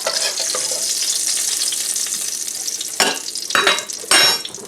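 Salisbury steak patties browning in a frying pan, a steady loud sizzle with bursts of spatter and stirring toward the end, no voices.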